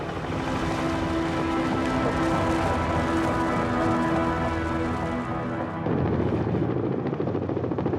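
Firefighting helicopters flying over a wildfire in the early morning, a steady loud rotor thrum with dense broadband wash throughout, shifting to a deeper, rougher drone near the end.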